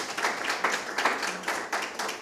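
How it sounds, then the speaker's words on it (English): A school debate audience claps, rhythmic bursts of handclaps from a modest group indoors, steady and fairly close, with no voices over it. "let's give another round of applause for Miss Desir."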